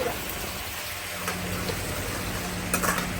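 Onions stirred and frying in a pan at home, a steady broadband sizzle with soft scraping stirs running throughout, fairly close and even in level, no talking.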